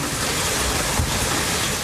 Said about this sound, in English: Winds gusting over 80 miles an hour, snapping trees.